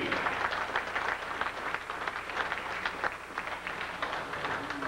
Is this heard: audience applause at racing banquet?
yes